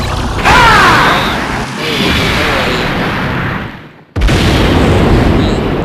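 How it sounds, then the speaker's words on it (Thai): Explosion effect from a Dragon Ball Z Dokkan Battle gacha summon animation: loud booming bursts with rumbling tails, a brief cut to near silence, then another heavy burst, with no talk over it. "ระเบิดไปนะครับ มันก็จะไม่มีแอนิเมชันแปลงร่างอะไรนะ"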